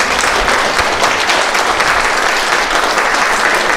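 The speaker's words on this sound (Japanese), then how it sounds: "大きな拍手でお出迎えお願いします。" An audience at a hotel stage show applauds to welcome a performer, dense continuous clapping at full volume filling the room with no pauses.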